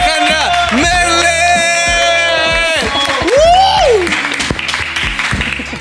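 An audience claps and cheers to welcome drummer Alejandra Merlet onto a studio interview show, the clapping dense and close under loud tonal voices and rhythmic backing sounds.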